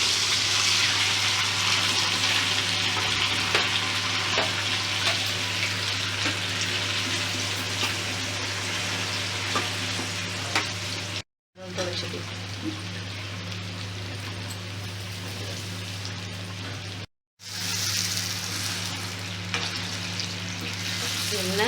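Mustard seeds, fenugreek and garlic frying in hot oil for a raw mango ginger pickle, a dense continuous sizzle and crackle heard close, with two brief silent gaps.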